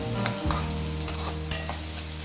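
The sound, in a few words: tindora (ivy gourd) frying on high flame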